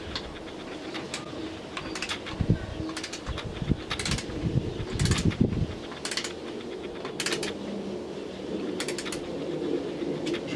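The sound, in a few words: torque wrench slowly tightening bicycle crankset bolts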